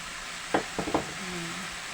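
Dried fish, tuyo and tinapa, drop into a pan of sautéing tomatoes with a few quick soft clatters, then a faint steady sizzle continues, quiet and close.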